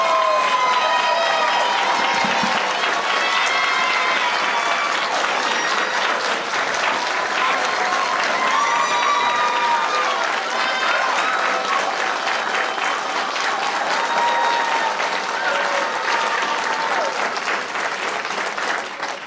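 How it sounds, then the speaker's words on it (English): A crowd at a police academy graduation applauds the graduates of Recruit Class 291, a dense, sustained wash of clapping that holds steady for nearly twenty seconds, with faint voices underneath. "Would you join me in giving a round of applause to the graduates of Recruit Class 291?"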